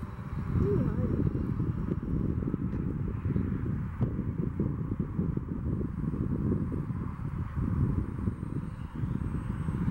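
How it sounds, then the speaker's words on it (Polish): Steady wind roars and buffets the microphone in a low, continuous rumble that holds throughout, with no pauses. "No teraz się już trochę wiatr zrywa, nie?"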